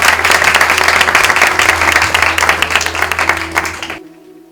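An audience at a Rushabhdevji Vihar Seva Group get-together claps loudly in a dense, sustained burst of applause that cuts off sharply near the end.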